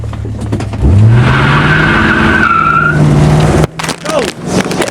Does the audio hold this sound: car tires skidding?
yes